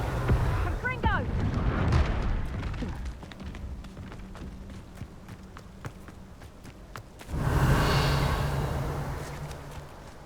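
Confringo blasting spells in the video game Hogwarts Legacy go off in booming bursts: a cluster of rumbling blasts early on, a quieter rumbling stretch, then another loud, broad explosion that slowly fades.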